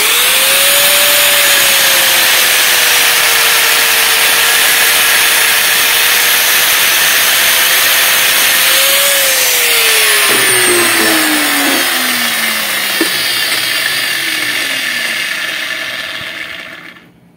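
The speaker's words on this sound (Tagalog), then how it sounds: "Grinder na natin para makita yung loob." An angle grinder cuts open a microwave magnetron, a loud, steady high-pitched whine with a harsh grinding roar that holds for many seconds, its pitch sagging under load before it winds down at the end.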